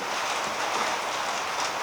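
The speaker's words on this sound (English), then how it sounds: "apparently the rain has hit" Steady rain pours down without pause, a dense, even hiss filling the whole stretch with no voices.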